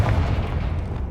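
A Confringo fire spell blast in Hogwarts Legacy, a loud, close, booming burst with a rumbling tail that fills the moment.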